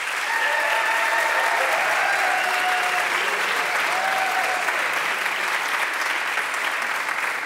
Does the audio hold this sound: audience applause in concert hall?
yes